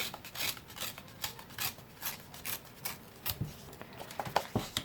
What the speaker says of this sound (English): So I'm just going to tear the edges